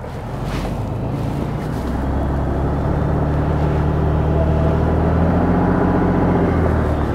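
A Ford Expedition Timberline climbs an off-road hill with power sent to the front wheels, its engine giving a steady, loud, low rumble with wind buffeting the microphone.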